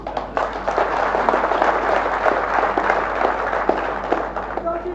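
A crowd claps at a political rally speech in Nashik, a sustained burst of dense applause lasting several seconds, loud and fairly close, tapering off at the end.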